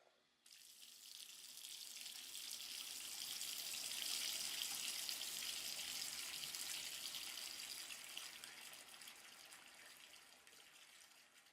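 Hot water gushes steadily from an opened valve into a bathtub. The rush of filling water is continuous and close, swelling slightly in the middle before easing, with no voices.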